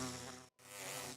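An angry bee in the Minecraft video game buzzes with a steady, harsh drone that briefly cuts out and then resumes, fairly close and without speech.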